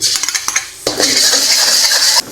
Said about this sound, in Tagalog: Haluin para magbalanse ang kulay.